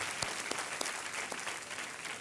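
A TV quiz show studio audience claps in a short, even burst of applause, moderately loud and continuous, with a few sharper claps standing out.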